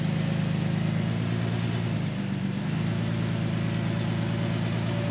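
A large RV engine drones steadily while the vehicle is driven during a recovery, a loud continuous low hum with a brief dip in the middle, no voices.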